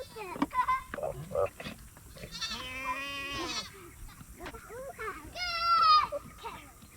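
A breeding buck goat bleats repeatedly during fall breeding season, loud, wavering cries close by, while people talk and a voice chatters in the background.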